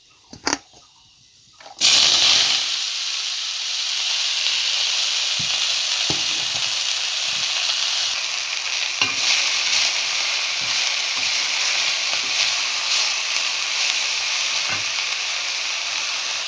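Chopped pea greens tipped into hot white oil with whole nigella seeds in a kadai hit with a sudden loud burst of sizzling, which settles into a steady, close frying hiss, with a few faint stirring clicks.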